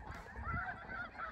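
A flock of snow geese honks continuously during a goose hunt, a dense chorus of overlapping nasal calls at steady moderate loudness with no talk.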